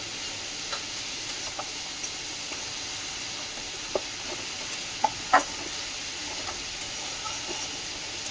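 Shredded cabbage with salt and turmeric cooking in a pan, a soft steady sizzle and hiss with occasional light clicks of a spoon stirring, no talking.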